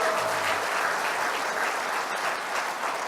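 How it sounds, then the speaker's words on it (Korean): An audience at a party rally in Daejeon applauds for party leader Hong Joon-pyo, dense sustained clapping filling the room throughout, steady and fairly loud with no speech over it. "우리 홍준표 대표님에게 큰 격려의 박수"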